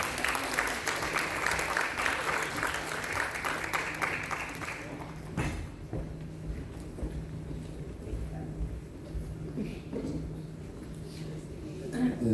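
Audience applause at an outdoor Belarusian folk festival bursts out loud and dense for about five seconds, then breaks off into wind noise and a low hum with a few scattered claps and voices.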